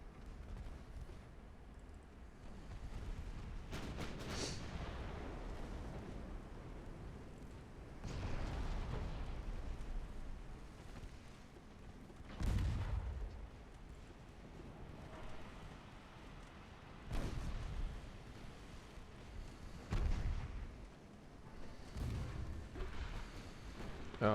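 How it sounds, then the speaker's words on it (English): A torpedo volley is launched in a naval warfare video game, producing a series of deep, muffled booms spaced several seconds apart over a low, rumbling sea-and-wind background. "Another little volley of torpedoes."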